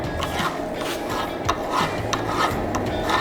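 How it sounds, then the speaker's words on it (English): A file rasps back and forth across a freshly forged, still-hot blacksmith knife in quick, steady, close-up strokes, each gritty pass following the last in a continuous rhythm. "So this is called hot filing."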